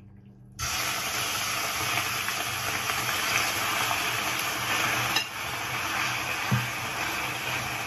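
Chicken sautéing in a pan sets off a sudden loud sizzle that holds as a steady close hiss, with a brief dip midway and a soft knock near the end.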